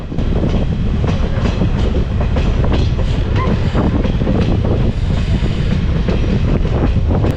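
A train runs steadily on the Kottayam–Kollam–Tenkasi rail line, heard close from aboard a nearly empty carriage, with continuous loud wheel rumble and faint rhythmic clacking throughout, no voices.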